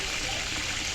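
Water being poured, a steady hissing trickle heard close up for about a second, with no talk over it.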